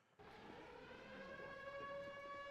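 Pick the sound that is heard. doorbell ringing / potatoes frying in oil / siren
siren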